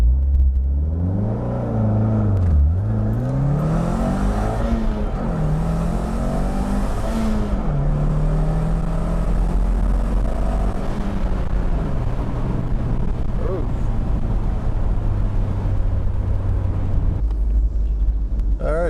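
A car with a sprint booster launches hard, the engine rumbling loud and close as it climbs through the revs, dips briefly at gear changes, then holds a steady droning pull for most of the run.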